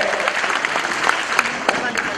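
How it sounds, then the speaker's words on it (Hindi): Loud, dense applause from an audience at a school event, with many hands clapping continuously and a few sharper claps standing out, while voices carry faintly underneath. "तो उनके लिए जोरदार तालियां बजानी चाहिए, जोरदार तालियां बजानी चाहिए।"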